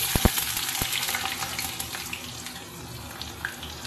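Steady hissing and crackling of potatoes and onions frying in hot oil, with a few sharp clinks of a utensil near the start.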